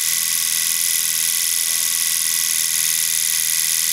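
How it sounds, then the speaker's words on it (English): A homemade DC electric motor running on 5 volts from a homemade power supply gives off a constant high-pitched whine that holds steady throughout. "we're going to hook the motor up to the 5-volt DC"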